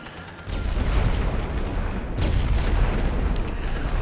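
Artillery barrage in The Great War: Western Front game, a dense continuous rumble of booms and blasts that swells loudly after a half-second lull and keeps rolling without pause.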